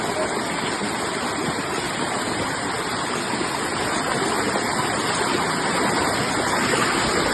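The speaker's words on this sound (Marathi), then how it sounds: "पाण्याचा स्रोत बघा किती जोरात चाललेला आहे" A Konkan stream near Ratnagiri surges in torrential monsoon rain, a loud, dense, unbroken roar of rushing water filling the whole stretch without letup.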